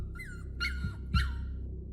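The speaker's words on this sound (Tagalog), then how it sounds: "bumitiw ang aso sa pagkakasakmal niya kay Ma'am Lupe." A dog sound effect from a Filipino aswang horror audio drama: three quick, close yelping barks that slide into whimpers, following one another over about two seconds against a low background rumble, with no voices.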